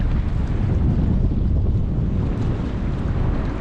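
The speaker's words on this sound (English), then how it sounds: "And that wind is blowing right into our face." Strong wind buffeting a fishing boat off New England, a steady loud roaring rumble with microphone wind noise and the wash of sea water beneath, unbroken and with no talk.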